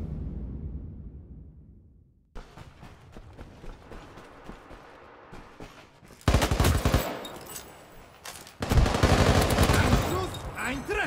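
In the video game World War 3, a G36 rifle fires in a team deathmatch on a Moscow map. Rapid bursts of automatic fire come in loud, dense volleys among other battlefield gunfire, with a quieter stretch at the start.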